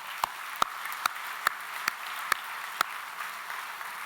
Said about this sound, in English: Can we give them all a clap?